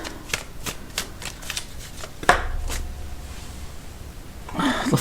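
An oracle card deck is shuffled in a quick series of crisp riffling bursts, followed by a louder slap and a brief settle, with more card rustling near the end. Close and clear, with no talk.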